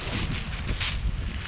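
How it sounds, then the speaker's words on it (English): Gusty wind buffets the microphone, producing loud low rumbling and rushing noise that swells and dips throughout. "You can hear it. It is windy."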